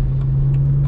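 BMW 1M engine, a brief steady low hum from inside the car that stays loud and even with no clear rev rise, no voices.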